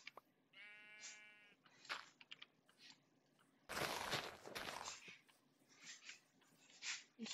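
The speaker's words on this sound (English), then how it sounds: "Shit ton of sheep, dude." A Minecraft sheep gives a clear, wavering bleat up close, followed by louder game noises like footsteps and rustling, with a few fainter bleats among them.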